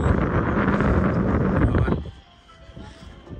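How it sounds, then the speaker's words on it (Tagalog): Strong wind at a high viewing deck in Hong Kong or Macau roars and buffets the microphone loudly for about two seconds, then drops to a quieter gusty rush. "malakas yung hangin"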